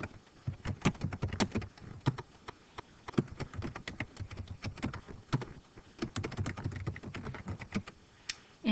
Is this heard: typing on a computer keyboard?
yes